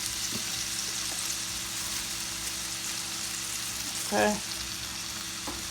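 Seasoned shrimp for shrimp and grits sizzle in a hot pan, a continuous even frying hiss that runs throughout, with a brief clatter partway through and one short spoken word.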